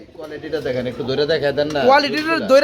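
Fancy pigeons cooing close by in a loft, a low repeating throaty coo running under a voice as he talks throughout.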